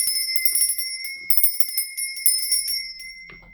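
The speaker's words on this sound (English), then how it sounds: "Now I'm going to ring the bell." A bell rung several times, its bright metallic tone ringing out clearly and decaying between strikes, with no talk over it.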